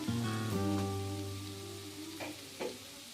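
Kerala-style chicken thoran, cooked under a lid, being stirred in a pan, giving a steady close sizzle with a couple of brief scraping stirs partway through; no one speaks.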